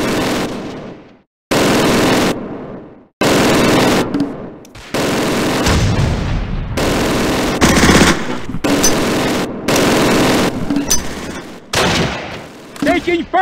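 Sustained bursts of machine-gun fire and gunshots in the Close Combat war video game, loud and near, with heavy rattling volleys and brief pauses between them.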